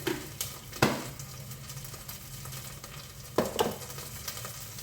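Whole spices frying in a pan for chicken biryani: a steady low sizzle with a few louder stirring clatters, close by and without talk.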